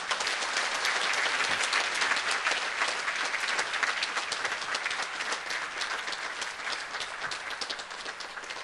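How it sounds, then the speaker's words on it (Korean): A church congregation breaks into loud, sustained applause, many hands clapping together close by in a steady wash that slowly tapers off. "인사하고 들어갈 때 크게 한번 박수해 주세요"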